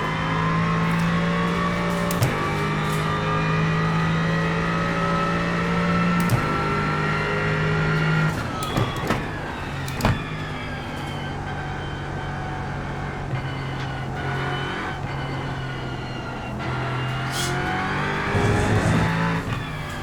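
Aston Martin GT3 race car engine in iRacing, loud and close, revving high then dropping sharply at each gear change, with repeated rises and falls across a lap.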